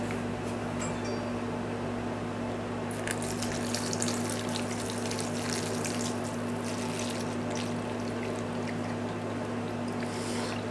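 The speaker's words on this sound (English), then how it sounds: "I'm going to pour that in and cover it with the vinegar" Plain white distilled vinegar poured into a container, a steady trickle under a constant background hum, with a brief burst of splashing partway through and no talk.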